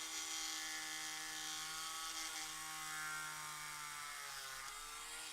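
A power drill bores into plastic in a steady, continuous whine with a droning motor tone that shifts pitch slightly near the end, close and alone without talk.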